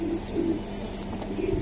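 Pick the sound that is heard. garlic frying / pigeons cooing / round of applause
pigeons cooing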